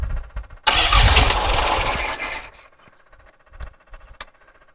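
A 1961 Triumph TR4 engine started with the push button: the starter churns briefly, the engine catches with a loud close roar, then settles and falters into uneven idle pops and coughs.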